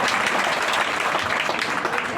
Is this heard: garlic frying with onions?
no